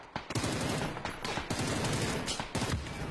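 Gunfire in a PUBG match, with a sniper rifle in use: a quick burst of several sharp reports followed by dense, rolling shots, distant and fairly faint.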